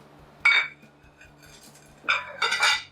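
Metal knives and forks clink and rattle together in two brief handling bursts, close and fairly loud against a quiet room.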